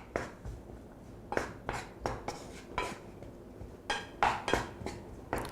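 Chorizo and dried sage being stirred in a frying pan for a frittata, with repeated scraping and clinking strokes at a steady pace, close and moderately loud, and no talking.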